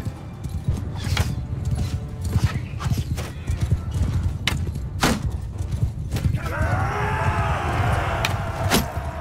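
In Mount and Blade II: Bannerlord, rhythmic hoofbeats of horses clopping along steadily during a battle, with a whinny rising near the end and sharp impact sounds scattered throughout.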